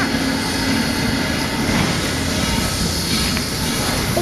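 Steam train rumbling and hissing steadily nearby, a continuous broad mechanical roar with no talk.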